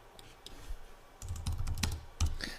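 Rapid clicks of a computer keyboard as a new name is typed for an email, a close burst of keystrokes that grows busier and louder toward the end.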